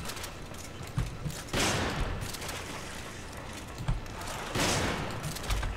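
Resident Evil 5 gunfire sounds as a few dull bursts and bangs over a dense, noisy game backdrop, moderately loud and without clear speech.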